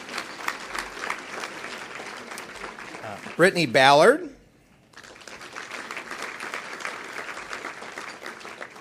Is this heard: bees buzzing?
no